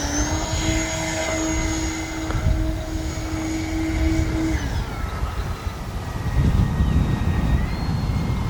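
An E-flite Beechcraft D-18 twin-engine RC model airplane flies past with a loud, steady droning buzz whose pitch drops as it passes, then its motors hum on over wind noise.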